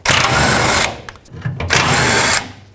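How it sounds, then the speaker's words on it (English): A power tool with a 13mm socket unbolts spare tire carrier mounting bolts on a 1997-2003 Ford F-150, letting out two loud, close whirring bursts separated by a short pause. "Now the 13mm socket, we can unbolt these two mounting bolts."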